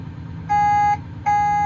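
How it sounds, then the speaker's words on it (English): Two loud electronic beeps from a loader, each about half a second long, sound over a low engine rumble as its bucket height memory is set. "machine beeps at you"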